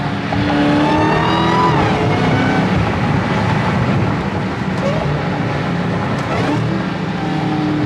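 A loud Dodge Charger Hellcat Redeye engine roars steadily, its pitch dropping and then jumping during a quick downshift, with a brief blip of revs.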